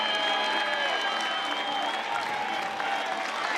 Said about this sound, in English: let this crowd build up a little noise, come to their feet to salute the freshman